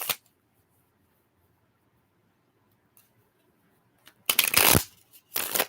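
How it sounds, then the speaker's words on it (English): Tarot cards are shuffled in short, crisp riffling bursts near the end, loud and close after a mostly quiet stretch with only faint handling sounds. "We're almost done shuffling for you, Jason"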